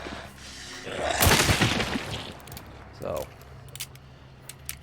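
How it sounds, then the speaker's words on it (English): Gunfire in a monster-fighting video game: a couple of sharp shots with booming tails stand out against the steady game ambience, and a voice speaks briefly. "See, with gunshots, you draw the attention of other monsters."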